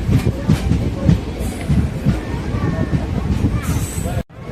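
A train pulling out of Akkaraipatti station rumbles and clacks steadily along the rails, close and continuous, with voices murmuring underneath and a brief whine near the end before a sudden cut.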